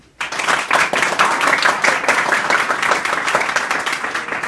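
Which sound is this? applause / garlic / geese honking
applause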